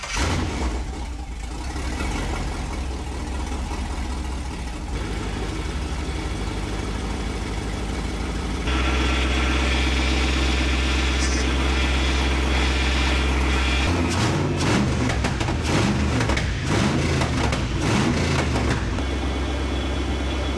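A V8 engine in a Ford Ranger build in a workshop cranks, then catches with a loud jump in level and settles into a steady, rumbling idle, followed by a few sharp revs near the end.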